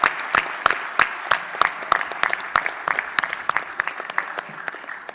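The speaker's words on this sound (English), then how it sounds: "A huge round of applause for these 3 teams as well." Audience at a national army quiz finale clapping, a modest crowd whose applause starts with loud distinct claps and gradually thins and fades out.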